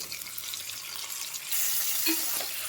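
Tomatoes go into a pan for sambar upma, and a steady hiss of frying rises abruptly halfway through, with a faint stirring clink beneath; no talking.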